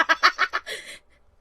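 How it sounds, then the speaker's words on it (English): A talking bird in the One Piece: Seas of Omen story lets out a quick burst of five sharp, nasal squawks followed by a rougher trailing cry, loud and close, then silence. "Colorful language that bird knows"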